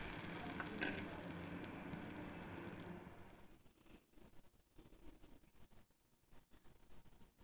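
Tomato paste added to a hot pan sizzles loudly at first, then the frying softens into quieter, uneven bubbling and spitting.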